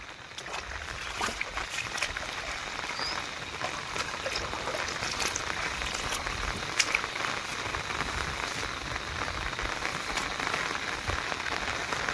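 Heavy morning rain falls on farm fields beside a sugarcane field, a dense, steady wash of drops with some trickling water, continuous and fairly close, with no talking.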